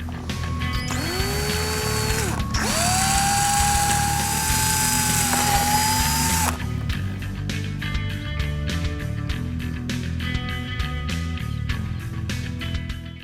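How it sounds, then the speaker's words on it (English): A power drill whines loudly, its pitch rising as it spins up, then gives way to rapid rattling chatter as the bit drills a pilot hole for a fender flare kit on a 2015-2017 Ford F-150. "We're going to start off using a smaller drill bit to make a pilot hole"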